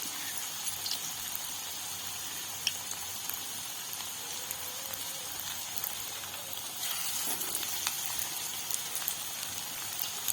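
Pumpkin flower pakoras frying in oil, a steady fine sizzling hiss at moderate level, continuous and unbroken with faint pops.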